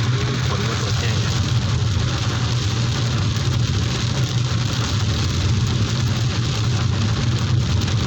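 Heavy rain pours down in a dense, continuous hiss and patter with a low rumbling undertone, loud and unbroken from start to finish, with no clear speech over it.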